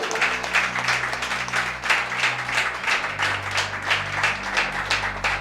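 Congregation applause at a Spanish-language church service, steady sustained clapping from a crowd filling the room at moderate loudness with low organ or keyboard tones underneath.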